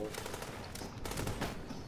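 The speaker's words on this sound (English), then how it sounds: "There's more. I see gunfire." Rapid automatic gunfire rattles continuously in The Division, a dense, loud, close burst of shots filling the whole moment with little pause, with voices faintly underneath.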